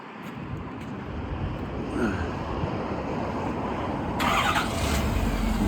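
A 2015 Ford F350 Super Duty with the 6.7 engine turns over and settles into a deep, rumbling idle, the sound swelling slightly as it catches, close by and steady.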